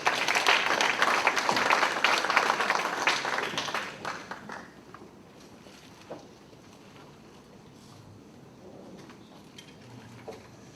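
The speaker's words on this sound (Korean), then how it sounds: "박수로 맞이합니다" An audience at a Busan migrant-mission forum claps to welcome a missionary speaker: dense, loud applause for about four seconds that fades to scattered claps and quiet room noise.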